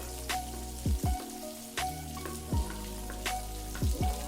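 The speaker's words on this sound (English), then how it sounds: "Likewise, fry for a couple of minutes." Onion sizzles steadily in a hot pan for soy chunk chili, a constant crackling hiss broken by several loud scraping knocks of a utensil stirring.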